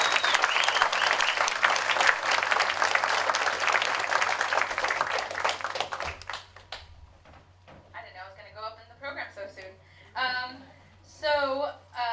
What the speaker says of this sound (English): So a big round of applause for Miss Valerie Salcido.